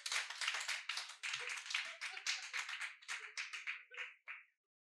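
A church congregation claps together in acclamation, a dense steady run of many hands clapping at close range, easing off and stopping abruptly near the end.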